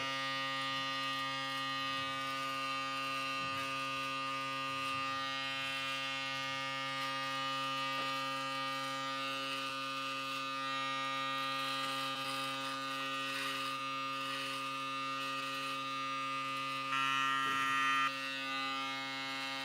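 Electric trimmer used for shaving in a washroom, a steady close mechanical buzz with a strong constant hum that runs unbroken, with slight shifts in tone as it moves, and no talking.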